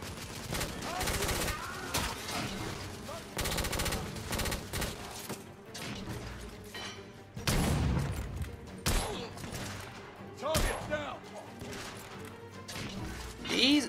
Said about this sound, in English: Oh, grenade launcher, okay.